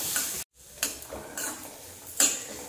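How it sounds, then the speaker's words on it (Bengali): Peas, carrots and beans fry lightly in a pan for an egg soup, with a soft sizzle broken by several scraping stirs and taps of a utensil against the pan. "দিয়ে স্টিমটা কমিয়ে আমি হালকা করে এগুলো একটু ভেজে নিই।"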